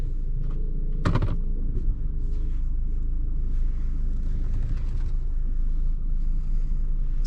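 The 2.4-litre four-cylinder 150 hp diesel engine of a 2020 Toyota Hilux Invincible starts with a short sharp crank burst, then settles into a steady low rumbling idle heard close by, with no talking.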